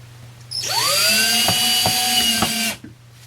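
A power drill drives screws into wood, whirring up to speed and holding a steady high whine for about two seconds, with a few rhythmic knocks, then stops abruptly.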